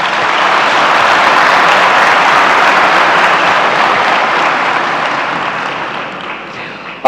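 A forum audience in Lisbon breaks into loud, dense applause at an opening session, the clapping sustained for about seven seconds before tapering slightly, with a brief sharp knock right at the end.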